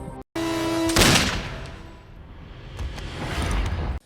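A sharp, loud gunshot follows a brief tone, then a long decaying boom and scattered rumbling, like a film scene.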